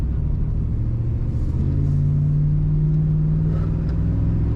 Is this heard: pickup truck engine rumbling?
yes